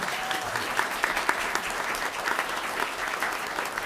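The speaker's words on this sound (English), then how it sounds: "Let's give him a clap." A room at a Bradenton city council meeting claps for a six-year-old boy, a steady round of applause from a modest crowd, evenly sustained with scattered louder individual claps.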